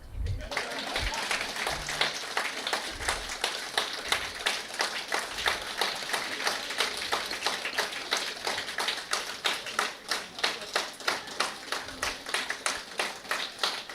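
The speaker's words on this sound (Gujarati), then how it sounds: "બહુ જોરદાર તાળી પાડો છો ભાઈ" Audience at an Ayurvedic seminar clapping in a steady, rhythmic beat, claps evenly spaced and sustained throughout, with a voice speaking over them at times.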